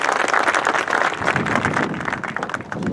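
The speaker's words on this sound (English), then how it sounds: "There's a round of applause." Applause from a high school audience at a National Honor Society induction ceremony, a steady wash of many hands clapping throughout, moderately loud and continuous without talk.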